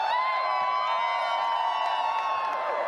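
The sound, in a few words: arena crowd cheering at Dota 2 grand finals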